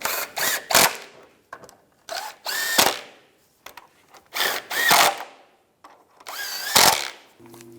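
A power tool tightens the bolts on the lower shield of a 2002-2009 Chevrolet Trailblazer during 4-wheel-drive actuator replacement, loud close bursts of whirring, five or six separate runs with short pauses between.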